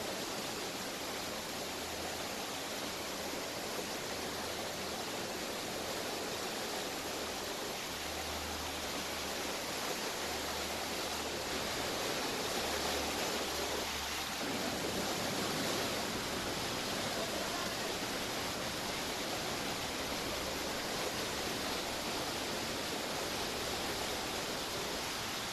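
Heavy rain floodwater pouring through the Sogal Someshwara Temple in Saundatti, Belagavi, a loud, steady broadband rush of flowing water with no break and no voices.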